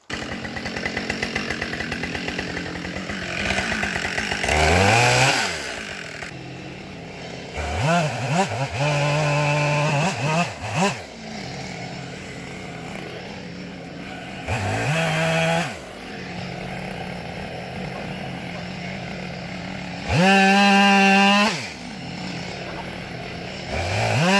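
Chainsaw cutting up fallen willow wood, the engine idling steadily and then revving hard into the cuts several times, loud and close, with a final long high-revving cut.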